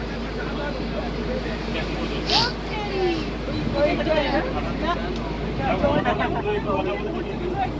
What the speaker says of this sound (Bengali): সো আমাদের বোট এগোচ্ছে অ্যান্ড আমরা প্রায় জঙ্গলে প্রবেশ করেছি